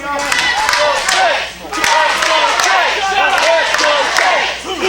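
Crowd at a CWF Mid-Atlantic wrestling tag team tournament chanting for a wrestler, many voices rising and falling in a loud, rhythmic chant with a brief dip in the middle and scattered claps.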